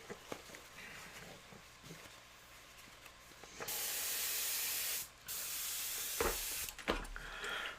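An airbrush being rinsed out blows a steady, close hiss of spray for several seconds, briefly cut off, then resumes before stopping with a short sputter; no voices.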